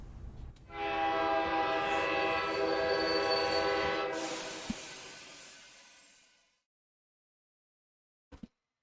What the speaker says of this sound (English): The train horn suddenly blares. The train lurches and rapidly slows.